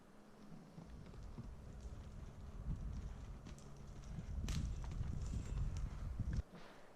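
A horse being ridden on her first ride, hooves clip-clopping in an uneven, near walking rhythm over a steady outdoor background, with no talk.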